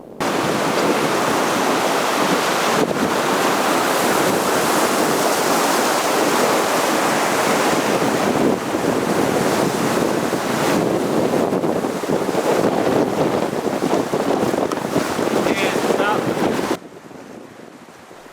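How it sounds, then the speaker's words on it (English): A Class 1 river rapid on a Montana river rafting trip, continuous rushing whitewater and wind buffeting the microphone, loud and steady before cutting to quieter sound near the end. "we came into a Class 1 rapid called Mermaid for the lone rock there on the right"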